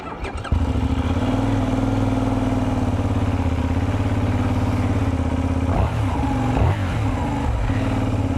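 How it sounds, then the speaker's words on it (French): A Benelli 752S motorcycle engine cranks briefly, catches and settles into a loud, throaty idle with a deep rumble, blipping the throttle a couple of times near the end. "On va la démarrer."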